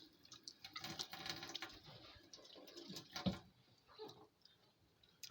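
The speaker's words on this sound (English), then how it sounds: "Run the water" Water running from a kitchen tap in brief, uneven bursts, a soft splashing hiss with a few clinks and drips, fairly close and quiet, with no one speaking.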